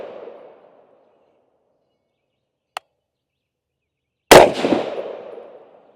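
Two rifle shots fired while testing a thermal scope: a faint sharp crack midway, then a loud, close report with a long rolling echo that fades out.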